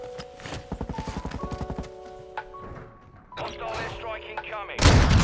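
Sniper gunfire in a video game: one loud, sharp shot bursts out near the end, following a run of rhythmic thudding game sounds and sustained electronic tones.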